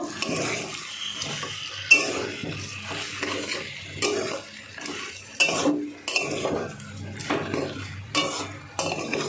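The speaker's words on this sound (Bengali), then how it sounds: "আলু আর পেঁয়াজ যে ভেজে রেখেছিলাম এটা দিয়ে দেব। দিয়ে এবার মিশিয়ে নেব, সব একসঙ্গে মিশিয়ে নেব।" Fried potatoes and onions stirred into mutton in a pan, with loud repeated clanks and scrapes of a utensil against metal in an uneven rhythm over a faint sizzle.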